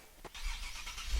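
A turbocharged car engine in Garry's Mod: a brief mid-pitched engine note with a short whooshing rise, fairly quiet, with no voices.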